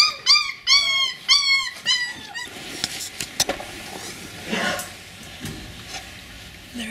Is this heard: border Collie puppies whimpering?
yes